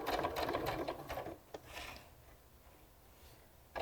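Sewing machine stitching across an elastic waistband join, running in a fast steady burst for about a second and a half and then stopping, with faint background afterward and no talking.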